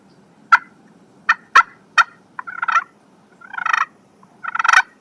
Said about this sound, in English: a slate is a very forgiving surface to run. I love a slate because I can cluck and purr with them